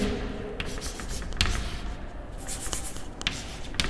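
Writing out mathematical conditions by hand during a lecture on uniform convergence, a continuous close scratching and scraping of the writing tool, loud and steady, with occasional taps and no speech.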